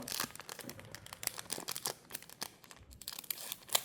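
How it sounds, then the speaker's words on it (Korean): Foil pack of Teenieping collection trading cards torn open by hand: quiet, close crinkling and crackling in quick irregular bursts, with sharp tearing rips and no talking. "자, 그럼 다음 팩 한번 또 까볼까요?"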